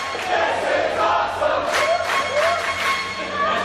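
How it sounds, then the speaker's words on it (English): A wrestling crowd at a championship match cheers and roars steadily throughout, a loud, dense wall of shouting and applause with swelling bursts of excitement. "Crowd is so appreciative"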